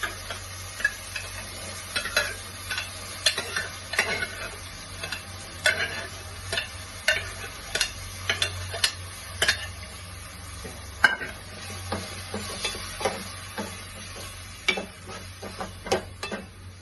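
Boiled vegetables tumble into a hot pan for veg pulao and are stirred, with repeated sharp spoon scrapes and clicks over a soft, steady sizzle, no voices.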